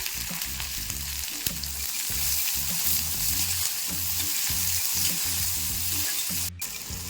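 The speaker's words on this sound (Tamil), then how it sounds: "கூட்டுக்கு எண்ணெய் ஊற்றி எண்ணெய் நல்லா காஞ்சிட்டு கொஞ்சமாக பெருஞ்சீரகம் சேர்த்துக்கலாம் கொஞ்சம் கருவேப்பிலை சேர்த்துக்கலாம் சக்கனை வெங்காயம் சேர்த்துக்கிறேன்" Fennel seeds, curry leaves and onion frying in hot oil, a loud steady sizzle with repeated rhythmic scraping of a spoon against the pan, with no voices.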